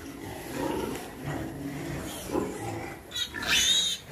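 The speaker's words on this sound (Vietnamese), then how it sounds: "Bây giờ mình để xuống tập cho cái đàn heo của mình nó uống sữa với amox nè." Piglets drink milk mixed with amoxicillin, grunting and squealing close up in a noisy pen, with a sharp high squeal near the end.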